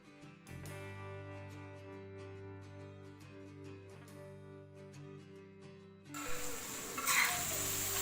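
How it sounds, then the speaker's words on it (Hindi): Minced keema frying with spices on a tawa breaks into a loud, steady sizzle near the end, after a long stretch of quiet, sustained droning tones. "मसाले डाल के कीमे को भून लिया मैंने"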